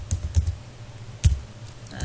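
A few quick keystrokes on a computer keyboard, a short cluster of close clicks followed by a pause and one or two more taps, crisp and near.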